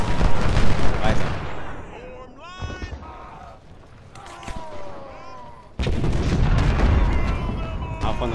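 Cannon and artillery fire boom from an Ultimate General: Civil War battle, heavy rumbling blasts at the start and again near the end, with someone talking over the game sounds in between.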